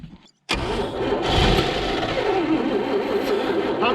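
A 1960s–70s Toyota FJ45 Land Cruiser engine cranks and catches after a brief silence, then runs steadily at a rough, loud idle close to the microphone.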